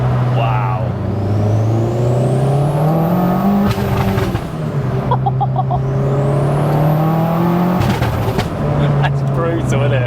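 A loud tuned 550 bhp big-turbo 2-litre stroker Audi TT Mk1 engine revs hard in repeated rising pulls, whining up between short drops, close by, with people talking over it.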